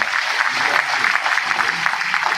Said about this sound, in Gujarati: જોરદાર તાળીઓથી આપણે આભાર માનીએ